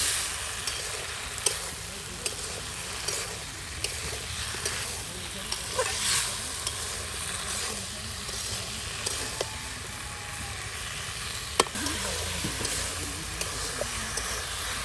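Tomatoes and potatoes are stirred together in a pot cooking over a riverside fire, with a continuous sizzle and hiss broken by occasional clacks of the utensil against the pot.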